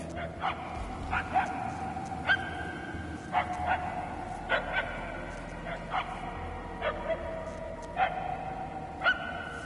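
A dog barks repeatedly in Guardians of the Galaxy, short yappy woofs at a steady irregular rhythm, each about a second apart, heard over a low ambient rumble.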